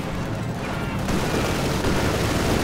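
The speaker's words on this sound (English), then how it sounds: "Grenades going off here." Grenades burst during a Company of Heroes 2 match, a dense run of loud explosive booms and crackling blasts rolling one after another with no pause.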